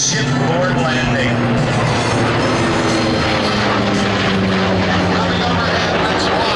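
A US Navy Tailhook Legacy Flight of vintage and modern aircraft passes overhead at the Blue Angels homecoming airshow in 2011, a loud, continuous engine roar with shifting drones, with a crowd and a commentator audible beneath it.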